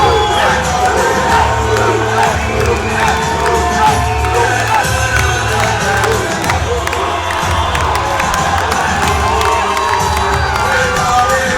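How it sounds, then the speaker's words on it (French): A boxing crowd at a WBC Silver title fight in Les Mureaux roars with continuous cheering, whoops and shouts as a fighter enters the ring, a loud, dense wall of noise throughout. "sous vos applaudissements, avec fair play"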